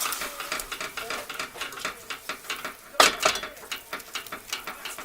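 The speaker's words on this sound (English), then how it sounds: "I'm going to keep whisking this until all the lumps are gone and it's nice and smooth" A whisk scraping and clattering rhythmically in a pan as flour is beaten into melted butter for a roux, steady quick metallic strokes, close and fairly quiet.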